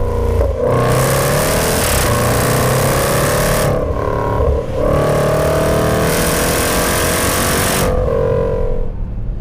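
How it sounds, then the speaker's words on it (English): A Jaguar F-PACE SVR engine revs and pulls hard through several gears, loud and close, with clear gaps between rising surges before cutting off at the end. "The engine just dominates the experience. I mean, just listen to it."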